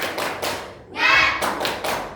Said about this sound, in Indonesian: Ibu bilang 1, 2, 3. Tepuk semangat.